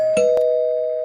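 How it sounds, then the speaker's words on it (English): A doorbell sounds a bright ding-dong as a guest arrives at a live show, two quick struck tones followed by a long clear ringing sustain, loud and close, with no talking. "Oh, ding dong, there's another guest"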